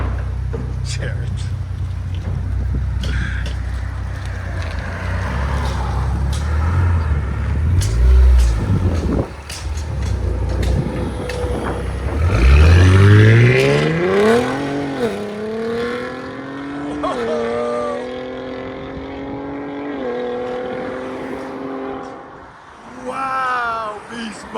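A 2020-2024 Ford Explorer ST with a 3.0L twin turbo V6 and aftermarket exhaust rumbles, then revs loudly in several rising sweeps. Voices talk over the engine at times.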